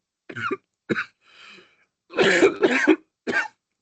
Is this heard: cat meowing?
no